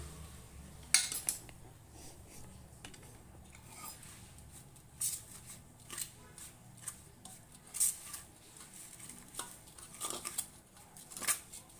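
A spoon clinks and scrapes against a metal dish while ingredients are mixed for festival sweets and savouries, with soft, irregular taps and squishy stirring, close and fairly quiet.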